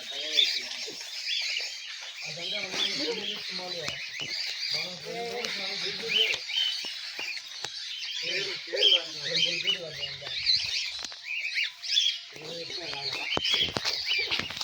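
Steady high chirping and whistling from several cockatiels runs throughout, with people talking at intervals underneath.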